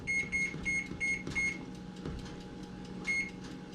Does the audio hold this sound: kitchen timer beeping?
yes